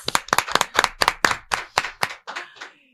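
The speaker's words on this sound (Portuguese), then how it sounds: "Digno de palma. Palmas!" Hand clapping in a podcast studio, about a dozen sharp, close claps in quick, even rhythm that slow and fade toward the end, with no talk over them.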